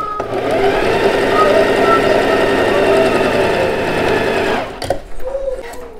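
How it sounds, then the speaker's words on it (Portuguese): A sewing machine runs a loose, long gathering stitch along a blouse seam with a fast, even whirring hum for nearly five seconds. It then stops, leaving a few light clicks and handling sounds. "Passa essa costura que a gente vai puxar pra franzir."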